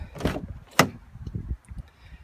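A 2016 Fiat 500X car door opens close by with a short latch clunk and a sharp thud, followed by quieter rustles and taps.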